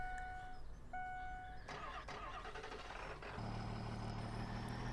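A Dodge truck engine cranking and firing up in Farming Simulator 2017, with a couple of chime tones first, then a starter whir that catches into a steady low idle rumble, close and moderately quiet.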